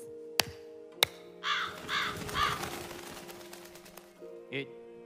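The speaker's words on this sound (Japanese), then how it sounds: "春日井ガラスは主に連絡用のカラスでございます" Crow caws in a Japanese scene about a messenger crow at a swordsmith's: three hoarse caws in quick succession, fairly close, after two sharp knocks, with voices speaking around them.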